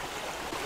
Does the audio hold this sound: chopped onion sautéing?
no